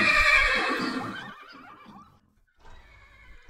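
A video game horse whinnies loudly with a shaky, descending neigh, fading out, followed by a brief low rumble and a sharp click at the end.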